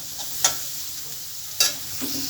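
Onions fry in a pan with turmeric under a steady moderate sizzle, with two sharp spatula scrapes as the mixture is stirred.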